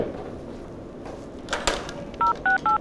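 Telephone keypad tones ring out as a number is dialed on a phone in a French film scene, a brief rustle followed by four clear evenly spaced beeps in a quick rhythm, close and loud against a quiet room.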